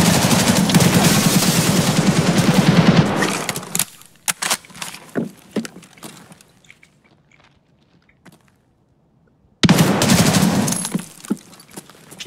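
Automatic gunfire in the video game Escape from Tarkov: a loud, dense burst of rapid shots, then a lull with scattered single cracks and near-silence, then another heavy burst at close range.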